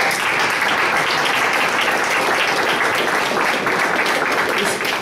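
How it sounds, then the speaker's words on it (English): Audience at an entrepreneurs' talk applauding, a dense, steady wash of many hands clapping for about five seconds, loud and unbroken. "I'm really glad that we had a chance to clap"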